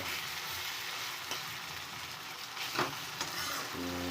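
A low, even sizzle comes from mutton cooking in a pan, with a couple of faint scraping stirs near the end.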